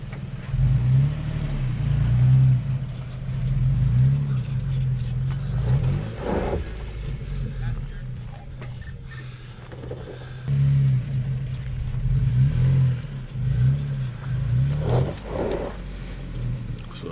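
Honda Passport SUV engine during an offroad crawl test, a loud close rumbling drone that swells and revs in repeated surges and falls back, with brief voices now and then.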